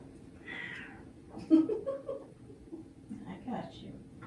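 A cat in a room during a home yoga session, giving a few soft meows and trill-like calls, with a person talking and chuckling over it.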